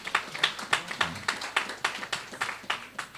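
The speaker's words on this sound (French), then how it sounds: "Applaudissez encore une fois pour elle." An audience at a spoken talk claps in a steady, rhythmic unison beat, roughly three claps per second, fairly loud and close with no talk over it.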